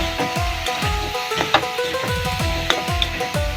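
Cabbage fry with garam masala being stirred in a pan, a spatula scraping and tapping in repeated strokes over a steady close sizzle of frying.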